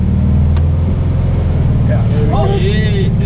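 A 1965 VW Beetle's air-cooled engine drones loud and close as the car pulls up a steep hill, a steady low throbbing hum, with a voice speaking over it near the end.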